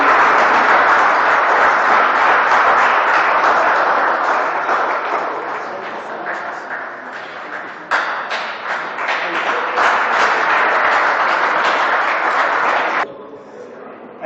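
Audience applause after a guest professor is introduced at an Igbo-language community gathering, a dense, loud burst of many clapping hands that gradually thins and fades, with a few scattered claps lingering at the end.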